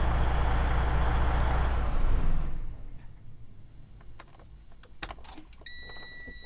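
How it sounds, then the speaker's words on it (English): A truck's diesel engine rumbles loudly and then cuts off abruptly, leaving a quiet cab with faint clicks, after which the instrument panel comes on with a steady high electronic chime or beep. "I would like to shut off my engine and turn on my instrument panel."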